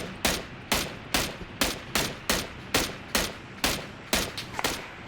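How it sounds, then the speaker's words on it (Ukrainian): A rapid series of loud gunshots in the video game PUBG, about a dozen sharp bangs at a steady, evenly spaced rhythm, each with a short decaying tail. "Там постріляли."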